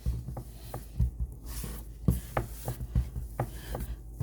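Fresh pasta dough is kneaded on a board, giving soft, irregular thumps and pressing rubs in a loose rhythm, close up, with no voices.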